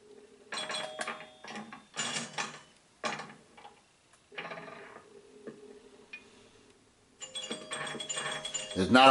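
Pinball machine mechanisms from Pinball Arcade on PS4 clack and ratchet in bursts of flipper and ball hits separated by short pauses, ending in a louder cluster of mechanical clatter and bell-like dings.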